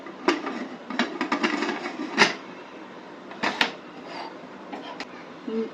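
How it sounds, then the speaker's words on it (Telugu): A pressure cooker lid is fitted onto a pot of mutton keema curry, with close metallic scrapes, rubbing and a few sharp clicks as it twists and locks into place. "మూత పెట్టుకుంటున్నా కుక్కర్ది."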